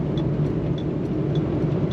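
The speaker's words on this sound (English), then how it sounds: "flick the engine brake on, or the retarder on, and that helps us go down so we don't wear the brakes out as well" A livestock lorry with a 16-speed gearbox descends a hill on its engine brake retarder, giving a steady, loud, low rumbling drone throughout, with faint periodic clicks over the top and no speech.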